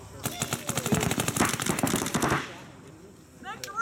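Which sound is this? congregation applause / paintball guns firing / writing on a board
paintball guns firing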